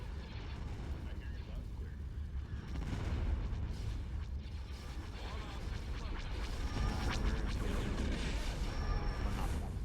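Starship weapons fire from a New Republic fleet battle at Ylesia in Empire at War: Thrawn's Revenge, dense rumbling booms and bursts running continuously beneath a voice speaking throughout.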